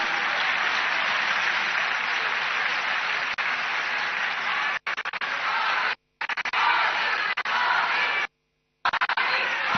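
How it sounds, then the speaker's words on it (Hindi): A crowd at a BJP political gathering in the Delhi-NCR area breaks into loud, thick applause that carries on steadily, broken by a few abrupt dropouts in the recording. "एक बार जोरदार तालियां हम अपनी इस संगठन के लिए, हमारे नेतृत्व कर रहे आदरणीय मोदी जी के लिए"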